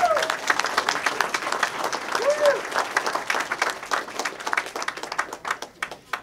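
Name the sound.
audience applause at campaign announcement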